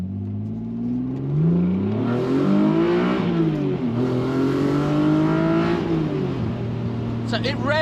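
A Jaguar V6 engine fitted in a Mazda MX5, revving loud and close inside the car, with the pitch climbing and falling through several gear changes. A voice speaks briefly at the end.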